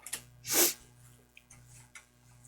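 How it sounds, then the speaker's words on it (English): A single close, sharp sneeze bursts out of a quiet indoor room, followed by soft breathing and small rustles. "I got these sneezes here."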